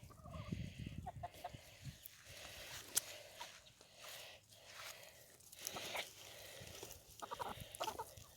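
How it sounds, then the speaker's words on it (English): Backyard chickens, hens and a rooster, are being given grass and clover as treats, producing close, repeated clucking and soft squawks with light pecking and rustling, and no talk. "Move, Rooster."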